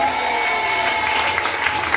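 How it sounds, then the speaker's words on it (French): A church congregation acclaims and applauds, with steady clapping and a mix of raised voices and cheers filling the room. "Dis Amen avec acclamation."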